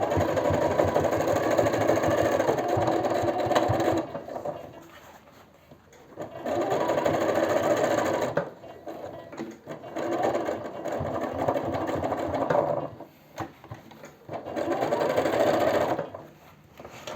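A sewing machine runs long stitching a pair of jeans, sewing a large stitch along the top of the trousers for the waistband. It comes in three sustained bursts with short pauses between them, steady, close and loud, with no talk.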